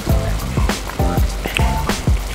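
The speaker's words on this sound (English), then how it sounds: "Look how it's still bubbling, it's so hot." A freshly cooked vegan pad thai with crispy cauliflower, rice noodles and carrots, still very hot, gives off a run of soft, wet popping bubbles in quick irregular bursts, close up.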